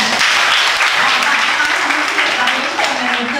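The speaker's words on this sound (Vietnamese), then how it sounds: "Các bạn hãy tặng Vy một tràng pháo tay nào" Applause from students filling a Vietnamese classroom during a career-guidance lesson, a steady dense patter of clapping held for a few seconds with no break.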